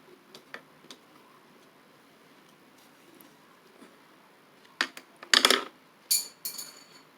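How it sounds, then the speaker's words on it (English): A pencil drops onto a hard surface during a painting session, giving a few sharp clattering taps and small bounces near the end after faint scattered ticks in a quiet room, with no talking. "I dropped a pencil."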